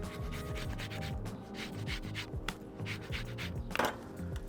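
An orange is zested over grilled sea bass, giving soft, close, continuous scraping and rubbing strokes at low volume.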